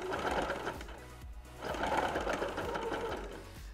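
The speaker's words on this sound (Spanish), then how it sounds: "preferimos reforzarla haciendo otra puntada similar al puro borde" A sewing machine runs steadily, stitching a reinforcing seam along the crotch edge of a two-piece women's swimsuit, with a brief pause midway before the motor whirs on again, close and alone.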